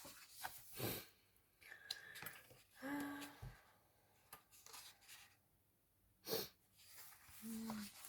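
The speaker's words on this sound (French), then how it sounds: "Excusez-moi si je renifle un peu" Several soft sniffs and snorts come in short bursts, close and fairly quiet, with small clinks and rustling between them.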